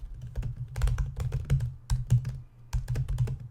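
Rapid clicking of computer keyboard keys in irregular bursts, close and fairly quiet, with no voices.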